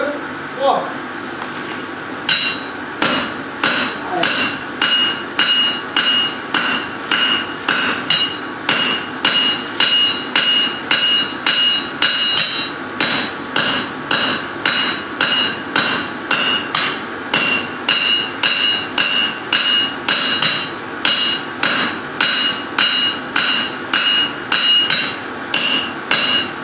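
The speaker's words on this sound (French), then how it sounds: "on va frapper avec 2 marteaux" Two hammers beat a forge-welded Damascus steel billet of four welded layers in a farrier's forge, giving a steady rhythm of sharp ringing metal strikes, loud and close, for over twenty-five seconds.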